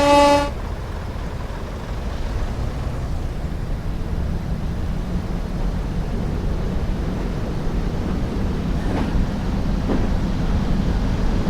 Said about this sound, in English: I can't remember if this horn sound is modded or not